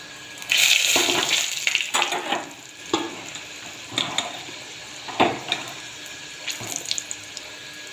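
Chicken pieces drop into a hot pan in a home kitchen and begin frying, a watery crackling hiss broken by several louder bursts and splashes as the pieces settle.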